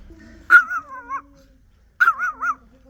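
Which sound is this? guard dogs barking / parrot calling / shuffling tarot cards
guard dogs barking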